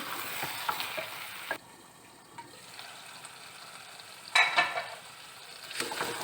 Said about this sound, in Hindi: 1 से 2 मिनट और मसाले को भूनेंगे।